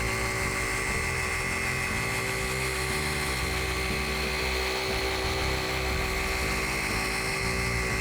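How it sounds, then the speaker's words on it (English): A FLEX polisher buffs car paint with a steady, loud whine and a constant motor drone, holding an even pitch without pause and no talking over it. "don't forget to turn the polisher off and let the pad stop spinning before you lift the pad off the paint"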